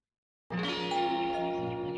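After a moment of silence, a doorbell chime rings out clearly and sustains with a ringing tone, close and alone.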